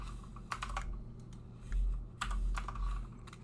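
A value is typed on a computer keyboard at a CAD/CAM workstation: two short bursts of clicky keystrokes, quiet and close, separated by a brief pause.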